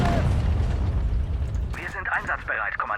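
Artillery guns firing in the WWII strategy game Sudden Strike 4, heavy rumbling booms and blasts rolling continuously through the mix, with a brief burst of sharper crackling mid-battle.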